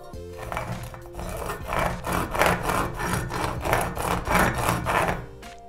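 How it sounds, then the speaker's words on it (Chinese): An iPhone X frame of medical-grade stainless steel is dragged against a brick in repeated back-and-forth strokes, a loud close gritty rasp that swells and fades about a dozen times with no talk. "这个 iPhone X 的边框呢是医用级不锈钢，还是让它和砖头亲密接触一下"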